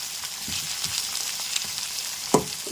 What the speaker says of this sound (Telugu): కొంచెం మగ్గనిద్దామండి ఆయిల్లో కొంచెం మగ్గనిచ్చాక